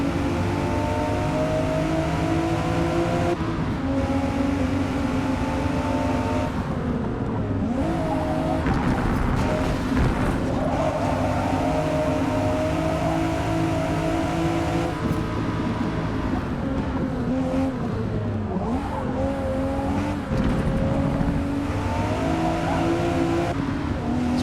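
Race cars in the Forza Motorsport 2023 racing game roar around a track in a tight pack, engines droning loudly and continuously, with gear shifts, passing cars and occasional tire squeal.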